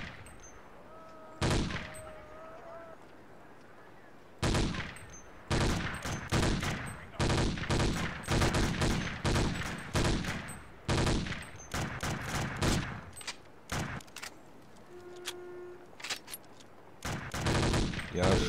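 Gunfire in the video game Boiling Point: Road to Hell: repeated loud bursts and single shots in irregular clusters, with a few quiet gaps between exchanges and a brief tonal ding near the end.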